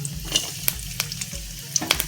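Onion, chili and curry leaves fry in hot coconut oil for an Angamaly mango curry, a steady close sizzle with light crackles and stirring scrapes and no voices.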